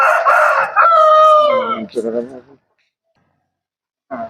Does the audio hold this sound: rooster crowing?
yes